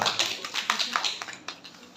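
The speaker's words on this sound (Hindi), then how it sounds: "बुशरा, बुशरा की ताली हो जाए एक बार।" Classroom of students clapping together for a classmate, a short burst of scattered hand claps fading over about two seconds, moderately close.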